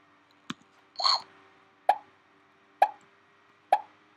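Short pop sound effects from a Scratch apple catcher game where an apple is caught by a bowl, several crisp, separate plops spaced about a second apart, clean and close, with one longer bubbly burst near the start.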